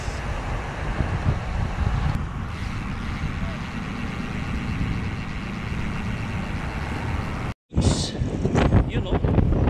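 Cold wind rushes past during a fast downhill bike ride in San Jose, Batangas. The wind noise roars and buffets continuously against the microphone, with a brief dropout near the end before the rush resumes.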